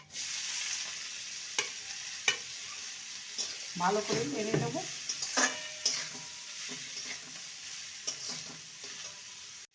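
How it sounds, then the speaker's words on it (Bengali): Cabbage fries in hot oil over tempered spices in a pan, a steady close sizzle with scraping stirs and knocks of the spatula, while a voice speaks briefly over it. "বাঁধাকপিটাকে ভালো করে ভেজে নেব"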